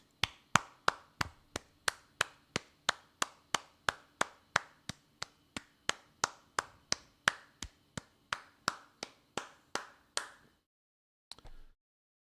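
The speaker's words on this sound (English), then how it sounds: "Well, that's worth a round of applause." During a live Orioles at Tigers baseball broadcast, a single pair of hands claps close to the microphone after an inning, a steady run of about two dozen crisp claps that stops abruptly, followed by a couple of faint knocks.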